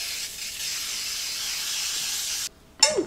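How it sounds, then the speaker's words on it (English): Non-stick cooking spray hisses onto a baking dish in a steady, close burst lasting a couple of seconds, then cuts off, followed by a brief clatter. "I'm going to go ahead now and spray my dish."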